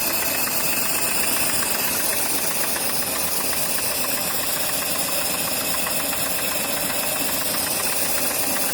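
A coal-fired live steam LGB Shay two-truck garden locomotive runs steadily close by, giving a continuous mechanical chuffing and clattering with a bright hiss throughout, alone without voices.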